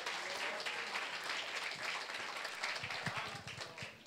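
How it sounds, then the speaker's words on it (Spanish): A church congregation applauds for Jesus, a steady wash of many hands clapping that carries on throughout at moderate distance, with little else over it. "Denle un aplauso fuerte a Jesús"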